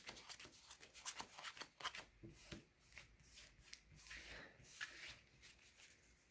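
Soft riffling and rubbing of Star Wars Destiny game cards being pushed together by hand, a series of quick papery flutters at close range.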